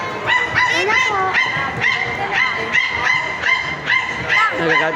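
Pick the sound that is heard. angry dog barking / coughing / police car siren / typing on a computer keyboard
angry dog barking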